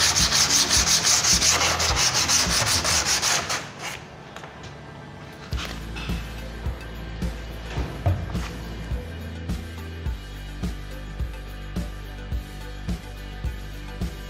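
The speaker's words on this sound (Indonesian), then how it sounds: "Kita amplas lagi." An HPL-faced plywood panel with PVC edging is sanded by hand, first with a dense, loud scratchy rubbing, then with slower repeated strokes that leave regular rasps and light taps, close up with no talking.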